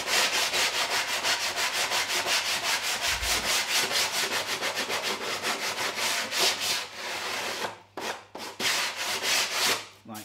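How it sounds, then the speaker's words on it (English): A hand-held sheet of sandpaper rubs back and forth on a rough-cut plywood edge inside a boat, taking off a burr in quick, regular loud strokes that pause briefly near the end. "so I'm just getting a piece of sandpaper"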